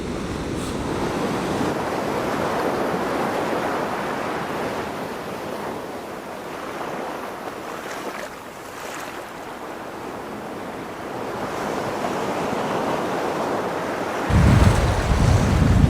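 Sea waves roll and break on a Cornish beach along the south coast, a steady loud wash of surf mixed with wind buffeting the microphone, rising into a heavy gust near the end.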